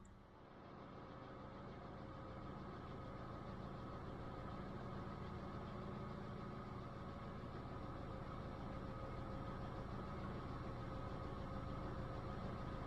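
A 2002 phase 1 Citroën C3 petrol engine idling steadily after a throttle body change, a smooth, even low hum that holds a constant level for the whole stretch with no talk.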